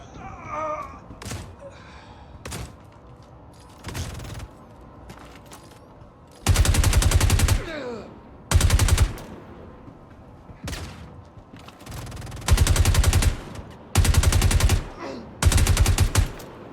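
Automatic gunfire in the video game Star Citizen rings out in several loud sustained bursts, each lasting about a second, separated by quieter stretches that carry lighter single shots and background game sounds.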